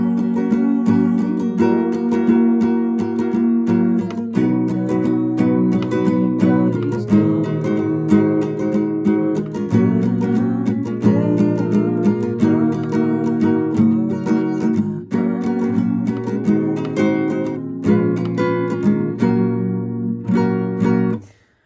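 An acoustic guitar plays the verse of a song in a steady strummed and picked chord progression, close and clear with no voices, ringing out at the end.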